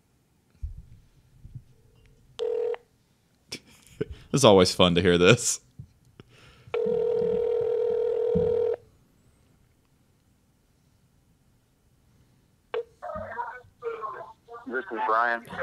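A telephone call rings through on a radio-style talk show, a steady electronic ring tone lasting about two seconds amid scattered clicks, with people talking before and after it.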